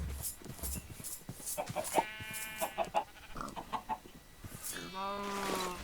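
Chickens in a farming video game cluck and bawk in short repeated calls, with a goat-like bleat near the end, under a voice talking over the game sounds.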